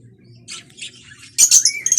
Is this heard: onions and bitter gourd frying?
no